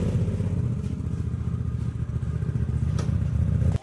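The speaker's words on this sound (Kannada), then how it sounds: "ಬೈಕ್ ಸೌಂಡಿಂದ ನನ್ನ ಮಾತೇ ಕೇಳಿಸಲ್ಲ ಗಾಯ್ಸ್." A motorcycle engine runs steadily nearby on a Bangalore street, a loud continuous low rumble with a slight rattling clatter and no break for the whole stretch.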